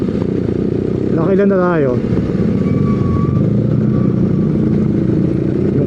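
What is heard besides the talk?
BMW R nineT motorcycle engine running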